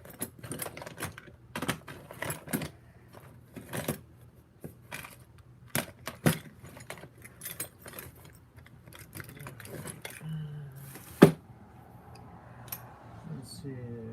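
Metal sockets rattle and clink as a hand digs through a tool collection, with sharp irregular clatters near the mic and a louder knock late on, then some scraping.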